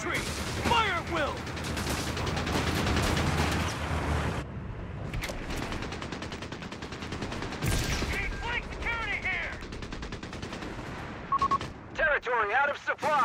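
Continuous battlefield gunfire and artillery in Company of Heroes 3, with dense rattling volleys and booming impacts throughout and shouted voices breaking in over the fighting.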